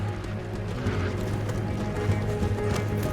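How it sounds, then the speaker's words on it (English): Horses gallop in the Red Dead Redemption 2 video game, a steady clip-clop of hooves running through a continuous low rumble, close and fairly loud, with faint voices. "See the horses?"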